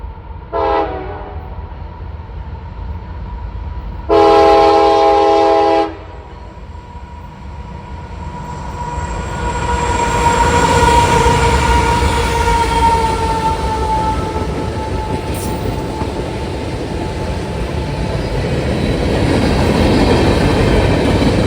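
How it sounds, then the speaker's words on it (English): A CSX mixed freight train passes a road crossing on the Columbus subdivision in Ohio, its loud horn sounding in two blasts, one short and one longer, followed by the rising roar and rumble of the cars rolling by close up. "CSX mixed freight train M635 was making another daily trip between Selkirk, New York and Columbus, Ohio."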